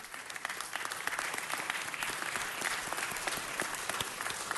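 An audience at a city council meeting in the council chamber giving a round of applause, a steady sustained patter of many hands clapping throughout.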